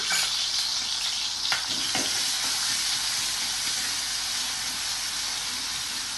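Green chilli thecha fries in hot oil with cumin and mustard seeds, giving a loud, continuous hissing sizzle with a couple of sharp stirring clicks early on.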